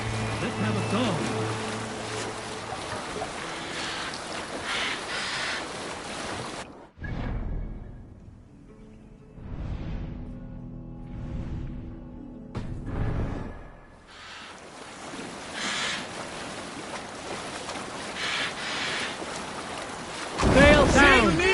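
A Viking longship sails the open sea in Assassin's Creed Valhalla: steady wind and rushing water hiss throughout, broken midway by a quieter stretch with tonal music, with occasional voices.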